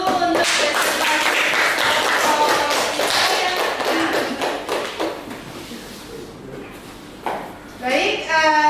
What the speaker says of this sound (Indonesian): kita kasih aplaus dulu untuk presentasi